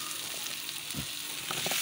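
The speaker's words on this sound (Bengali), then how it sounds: "আমি ওই চাটুয়ের মধ্যে আলুর পিসগুলো ভেজে নিচ্ছি" Thin slices of two small potatoes fry on a tawa with salt, giving a faint, steady sizzle broken by a few brief stirring scrapes.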